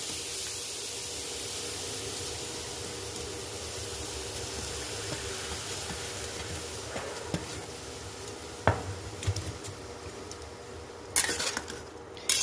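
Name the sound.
carrots frying and being stirred in hot ghee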